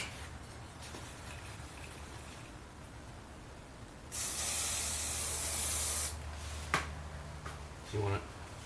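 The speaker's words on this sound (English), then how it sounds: "Spray some spray adhesive there, pull that tight, and then spray some right here" Spray adhesive hisses from a can in one long loud burst of about two seconds, then a short spurt follows, with quieter handling and rustling of window cover material around it.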